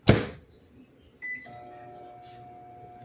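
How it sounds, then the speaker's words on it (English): A microwave oven heating s'mores: a door thump, setting beeps, then the steady low hum of the running oven, moderately close with no one speaking. "I'm gonna put it in the microwave."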